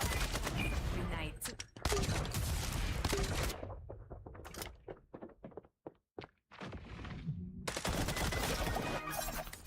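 Video game gunfire cracks out in dense bursts at the start and end, with scattered single shots and thuds between, loud and close with no talking.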